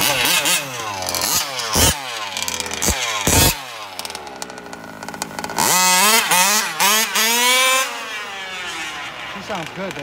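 Fully modified seven-year-old G290 motorcycle engine revving hard, with repeated sharp throttle blips and rising, falling harmonic whines, loud and close, mixed with people talking nearby.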